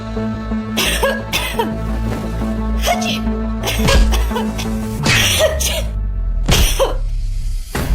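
Several harsh coughs burst out in sequence over a steady background hum, loud and close, with a sneeze-like outburst among them.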